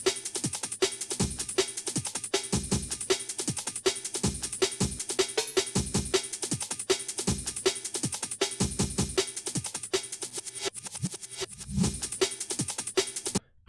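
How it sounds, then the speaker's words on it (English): Chopped drum break in an ambient jungle style, with a reversed section and a pitched-up snare, playing as dense, fast broken beats over a steady high hiss and low pads, loud and continuous to the end. "Added a reverse section and also a pitched up snare,"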